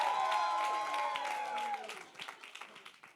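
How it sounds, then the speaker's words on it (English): Wedding guests applaud during the toasts, a dense, steady clapping that fades into scattered claps, with a sustained tone and faint crowd murmur beneath. "Let's give him a round of applause."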